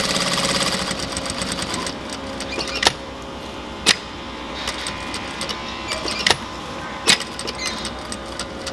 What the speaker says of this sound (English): then I can start sewing the forefoot strap and the outsole post